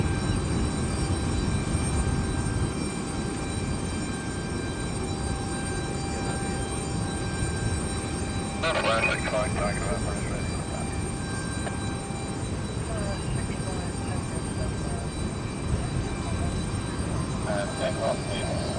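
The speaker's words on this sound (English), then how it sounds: "Biggest aeroplane yet to land at London City" An Embraer E195-E2 airliner approaches and lands at London City Airport, a broad steady roar of jet engines and rushing air held throughout at moderate distance, with brief mechanical rattles midway.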